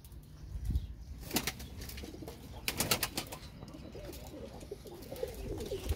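A pet pigeon takes off and flies, wings flapping in several quick bursts of clattering beats, fairly close and alone over a quiet outdoor background.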